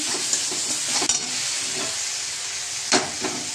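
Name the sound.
sautéing tomato paste with turmeric and chili powder in pan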